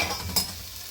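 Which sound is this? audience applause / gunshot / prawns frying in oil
prawns frying in oil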